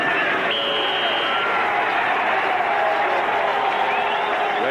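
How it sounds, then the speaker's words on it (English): Football crowd cheering for the Denver Broncos after a touchdown in a 1984 game against the Bills, a continuous loud roar of fans with whistles and horn tones, steady and distant-sounding across the stadium. "Fans remaining starting to cheer for Denver"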